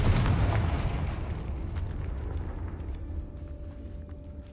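A Confringo spell explosion in the video game Hogwarts Legacy bursts loudly at the start, then rumbles and fades over a few seconds, with a faint lingering tone.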